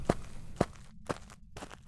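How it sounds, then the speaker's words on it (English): Slow ghost footsteps in the Phasmophobia horror video game, a few soft, evenly spaced thuds over faint background noise, heard alone. "We heard the very slow footsteps."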